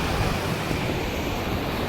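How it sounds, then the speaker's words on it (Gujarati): Water from the village pond at Chavand, overflowing after a downpour, rushes in a steady broadband roar that stays loud and unbroken throughout, like surf, with a touch of wind on the microphone and no voices. "ધોધમાર વરસાદ પડવાને કારણે આ તળાવ ઓવરફ્લો થઈ ગયું છે"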